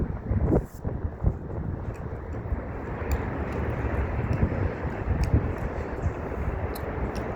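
Steady outdoor wind in Toronto on a cold day, a broad continuous rush buffeting the microphone with a few stronger gusts early on, no voices.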